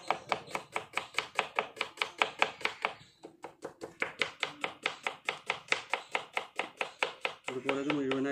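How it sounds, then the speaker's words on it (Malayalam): A knife finely chopping onions on a board, about a kilo being cut for beef dum biryani, in a steady fast rhythm of close, crisp taps with a brief pause midway. "അതിലേക്ക് ഏകദേശം ഒരു 1 കിലോ ഉള്ളി നന്നായിട്ട് നൈസായിട്ട് അരിയണം."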